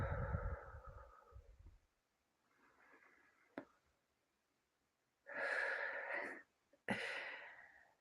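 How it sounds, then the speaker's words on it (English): Deep breaths during a guided eyes-closed exercise: a long exhale, a soft inhale, then two loud close breaths separated by a sharp click, no talk. "Close your eyes and take a couple breaths."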